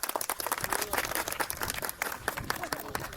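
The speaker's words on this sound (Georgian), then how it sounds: "დიდი მადლობა, წარმატებას გისურვებთ. აპლოდისმენტები." A crowd applauds with rapid, dense clapping that carries on evenly from start to finish, fairly close and lively.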